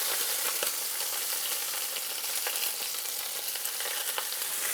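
Meat pieces frying hard in a hot pan for birria tacos, a steady dense sizzle filling the whole stretch with scattered soft clicks and pops as the pieces are turned, close and loud with no voices.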